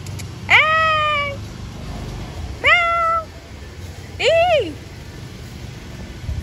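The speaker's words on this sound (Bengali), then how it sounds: "যা ম্যাওকে ধরতে পারলাম না" A cat meows three times outdoors near a residential road, with each drawn-out cry separated by a pause of about a second, heard over a low steady background hum.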